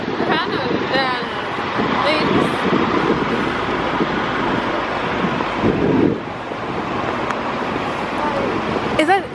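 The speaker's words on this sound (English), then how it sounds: "Oh, it's windy." Wind buffets a microphone outdoors on a bright day in Hong Kong, a steady loud rumble running throughout, with people talking over it.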